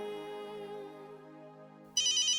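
Telephone ringing indoors, a short electronic ringtone tone that breaks into a bright warbling trill near the end, clear and alone.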